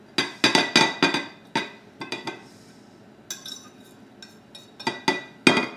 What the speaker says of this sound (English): I'm going to mix all these ingredients together